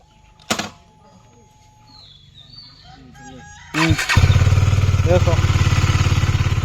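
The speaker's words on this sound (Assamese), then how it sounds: "আৰু ইয়াৰ ইঞ্জিনৰ চাউণ্ডটো শুনক কি ধুনীয়া হৈ আছে। নিউট্ৰেল কৰি লৈচোন মজাকৈ।" A KTM RC 200 motorcycle engine idles in neutral, its steady rumbling pulse starting partway through after quieter background sounds and a brief bird-like call, then running loud and close to the end.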